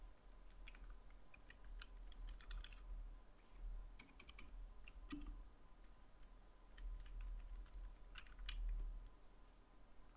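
Quiet computer-keyboard typing of an email address into a PDF form field, with scattered soft key clicks in small bursts over a low background hum, no talking.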